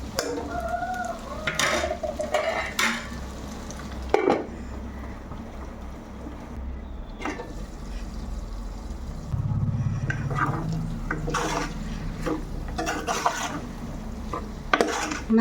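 Boiled potatoes cook in oil in a pan for a potato kurma, with intermittent spoon scrapes and clinks against the pan over a low steady sizzle.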